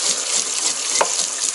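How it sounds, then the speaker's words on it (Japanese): Tap water runs steadily and close by while a single sea bass, caught in a small river near Kinokawa in Wakayama, is rinsed under the stream with a brief clatter midway, and no voices are heard. "こうやって水で流しながらねやります"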